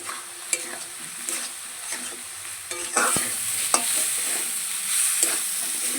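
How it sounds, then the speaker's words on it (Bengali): Spice paste for a vegetarian jackfruit seed curry, made with Kashmiri chilli powder and salt, sizzles and fries in a pan while a spoon stirs it with steady scraping strokes and a few sharper clinks, continuous and close up. "মশলাটা আমার ভালোভাবে দেখুন কষানো হয়ে গেছে"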